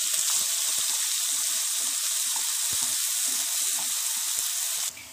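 Onions frying in hot oil for keerai kulambu produce a close, continuous sizzle with scattered crackles and pops that ends abruptly near the end.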